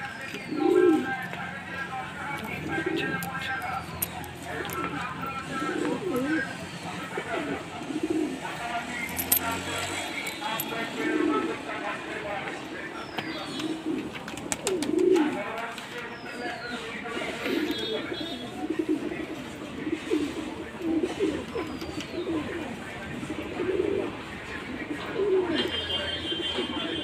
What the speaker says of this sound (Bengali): সো গাইস দেখতে পাচ্ছ সব পায়রা এদিকে ঘোরাঘুরি করছে